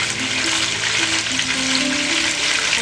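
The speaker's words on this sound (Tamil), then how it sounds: "சிக்கன் சாப்பாட்டில் உடஞ்சி போகாமல் இருக்கிறதுக்கு இப்படி பொரிக்கிறதுங்க." Chicken pieces fry in hot oil for Arabian-style kabsa rice, a steady close-up sizzle and crackle that holds unbroken throughout, with faint stirring and no voices.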